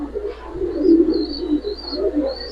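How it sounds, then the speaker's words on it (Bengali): Pigeons of silver and racing breeds coo softly and repeatedly in a loft, low murmuring calls close by with no talk. "জেলি কবুতরের আমি চোখটা ধরে একটু দেখাই"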